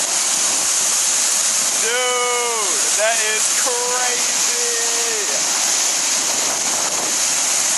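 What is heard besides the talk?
water rushing out, like a waterfall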